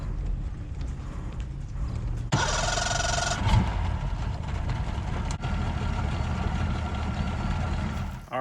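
A boat motor idles steadily with a low rumble throughout, joined partway by a brighter hiss and a few clanks, with no talking.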